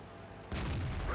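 Artillery in a video game match replay fires once, a single faint, muffled boom that leaves a low rumble trailing after it.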